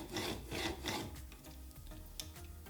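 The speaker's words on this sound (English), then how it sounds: "I'm just going to alternate between sliding the chisel with the bevel down" A woodworking chisel slides bevel-down across a sharpening stone in a few rhythmic rasping strokes, close and quiet, with no voices.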